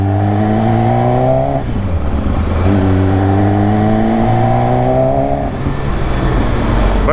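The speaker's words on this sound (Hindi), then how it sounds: "साउंड ठीक है, इनलाइन 4 है और स्टॉक एग्जॉस्ट है।" MV Agusta F4 superbike with an inline-four engine and stock exhaust, revving loudly and close in two rising pulls with a brief dip between, alone without talk.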